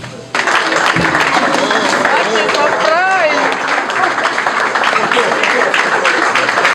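A crowd in Kongo Central province, Democratic Republic of the Congo, applauds with dense, continuous clapping, joined by a whistle and some cheering, fairly close and steady throughout.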